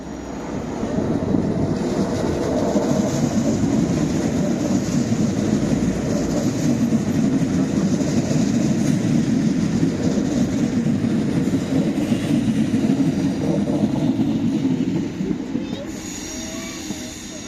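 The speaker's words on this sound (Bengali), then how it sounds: "রেড কালার ট্রেন এসেছে" A red train pulling into a station in Copenhagen, Denmark, with a loud, sustained low rumble and rolling clatter that holds steady before easing off at the end.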